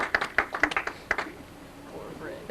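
A few people clap at a Christmas party, about half a dozen sharp, close claps in a quick uneven run, then trailing off into quieter room sounds with voices.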